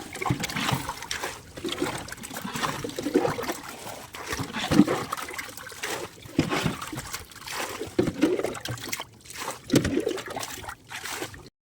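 Water is bailed out of a fishing boat, scooped and tossed in repeated sloshing splashes, falling into a rough, uneven rhythm up close.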